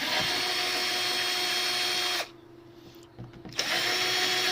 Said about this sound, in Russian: Мы запускаем две болгарки одинаково.